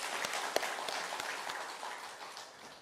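A church congregation claps for the Galilee choir during a Sunday worship service in Korea, soft and fairly distant, with a few sharper individual claps standing out before the sound thins and fades.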